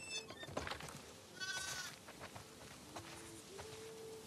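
Sheep bleat a few times in The Last of Us Part II, over a soft, busy background, short calls scattered through the clip at moderate distance.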